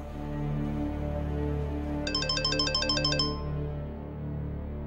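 A phone rings with a short electronic tone burst of rapid repeated beeps lasting about a second, heard over a low sustained background music bed.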